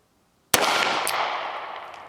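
A single sharp shot from a Taurus Ultra-Lite Titanium revolver cracks loudly out of silence and rings off in a long decaying echo, with a second fainter report shortly after.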